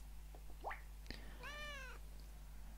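A single drawn-out cat meow in the hidden-object puzzle game AE Mysteries Sweet Dreams, preceded by a few soft clicks and a quick rising chirp, clear over a steady low hum.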